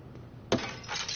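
Glass shatters under a hammer blow in the video game Life is Strange: one sudden loud crash, then a bright crackling spray of falling shards lasting about half a second over a low background hum.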